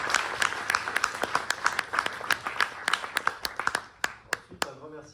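Applause from a live audience at a parliament-themed climate event, many hands clapping steadily for several seconds before thinning out into a few scattered claps.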